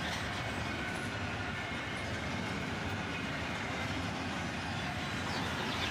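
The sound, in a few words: CSX freight train with containers passing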